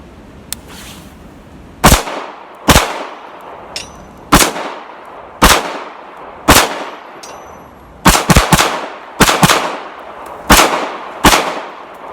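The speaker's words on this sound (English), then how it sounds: "I'm shooting at like a 3-inch metal spinner at you know, maybe like 15 yards" Pistol shots fired at a 3-inch metal spinner target about 15 yards away: roughly a dozen sharp, loud cracks at irregular intervals, including a few quick doubles, with no talking.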